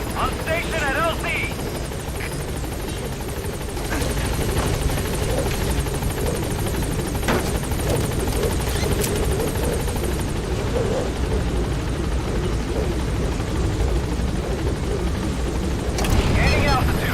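Support helicopter in the PS4 video game Metal Gear Solid V: The Phantom Pain, a loud, steady rotor thrum that swells near the end, with voices talking over it.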